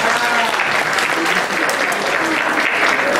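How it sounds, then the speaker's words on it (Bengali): An audience applauds at a Bengali New Year 1425 celebration held by Udichi in New York in 2018: dense, close clapping that stays loud and even throughout, with voices mixed into the crowd. "একটু করতালি দেবেন।"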